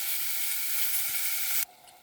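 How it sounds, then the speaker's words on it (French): A pan sizzles loudly with steady broadband hiss as white wine hits it for deglazing, then the sound drops sharply to a faint simmer near the end; no talking. "j'ai déglacé avec le vin blanc"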